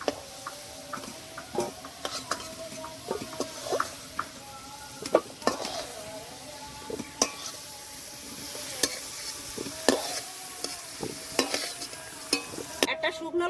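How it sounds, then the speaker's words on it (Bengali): Potatoes fry lightly in a pan with a soft, steady sizzle, broken by frequent sharp clicks and scrapes from stirring against the metal. "আলুগুলো হালকা করে ভেজে নিয়েছি এখন তুলে নেবো"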